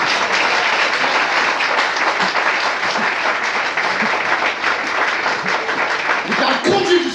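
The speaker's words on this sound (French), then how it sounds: "Applaudis mon Dieu" A church congregation bursts into sustained applause during a French sermon, dense hand-clapping filling the room for several seconds, with voices and cheers mixed into the crowd noise near the end.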